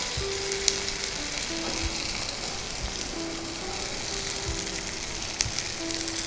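Jackfruit seeds are stir-fried with grated coconut in a pan, a soft, steady sizzle close by, broken by light scrapes and taps of a stirring spoon.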